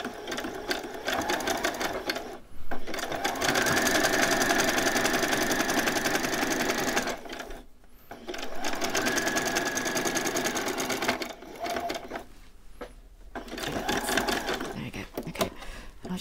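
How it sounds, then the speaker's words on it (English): A sewing machine runs a zigzag stitch around the raw edge of a homemade t-shirt in several bursts of steady whirring, separated by brief stops, close up. "I'm going to zigzag all the way around just to get rid of that raw edge there"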